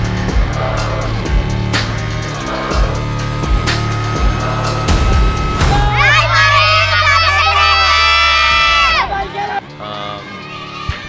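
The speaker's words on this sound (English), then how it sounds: "Listen to the crowd. Yeah, the crowd is loving her." Crowd cheering at a lead climbing World Cup final, a loud roaring swell with whistles and shouts that rises over a busy mix of music and commentary, then drops away abruptly near the end.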